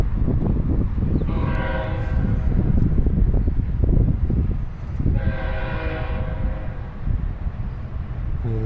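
Train passing at a distance along a nearby track, a steady rolling rumble with its horn sounding in two long blasts several seconds apart, outdoors with some wind and no talk.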